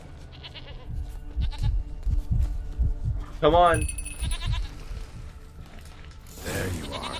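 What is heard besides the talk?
goat bleating in video game The Witcher 3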